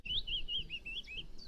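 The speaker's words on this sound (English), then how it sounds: "Another willow warbler here." Willow warbler singing outdoors in bare bushes, a steady run of high, sweet descending phrases repeated over about a second and a half, moderately near against a low background rumble.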